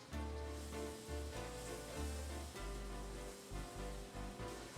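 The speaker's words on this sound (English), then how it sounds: "now that the butter is melting" Half a stick of butter melting and sizzling in a hot pan with chicken breasts, a steady close frying hiss with low thumps from the pan.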